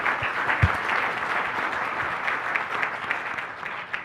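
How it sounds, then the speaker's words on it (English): Audience applause at a WordCamp San Francisco 2012 conference talk on WordPress performance, a steady dense patter of many hands clapping across the whole stretch, fairly close and loud, with no talking. "You can applaud while we do the questions."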